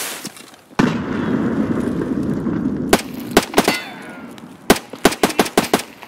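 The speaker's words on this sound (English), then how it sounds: "He threw a grenade." A grenade blast in Escape from Tarkov hits suddenly, followed by a long rumbling tail, then a series of sharp, loud gunshots and bursts trading back and forth, with no voices.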